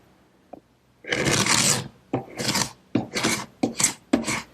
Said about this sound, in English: the first thing I want to do to this piece is scrape off the excess glue that's squeezed out